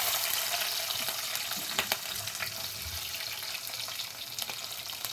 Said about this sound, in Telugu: అలాగే పచ్చిమిర్చి, ఆనియన్స్ కూడా వేద్దాం.